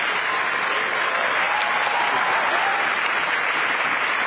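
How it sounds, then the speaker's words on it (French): Sustained applause fills a large hall at the COP28 climate conference in Dubai, dense and even throughout with no break. "Le monde entier applaudit et se lève pour un accord historique."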